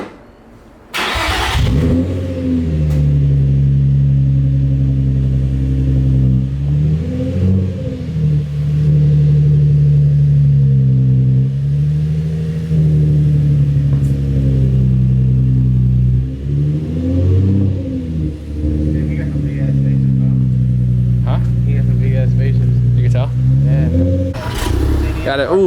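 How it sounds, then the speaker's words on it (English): A VW GTI running on E85 fires up from a cold start, its engine droning loud and close at a steady high idle with occasional swells in revs, people talking briefly over it. "You hear that cold start?"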